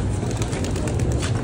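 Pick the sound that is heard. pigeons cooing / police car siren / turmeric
pigeons cooing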